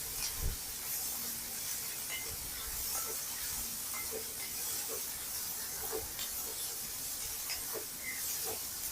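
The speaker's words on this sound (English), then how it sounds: "We will add the onion. Saute this till translucent." Onion sautés in a pan with a constant soft hissing sizzle, broken by occasional light clinks and stirring knocks, fairly quiet and with no voices.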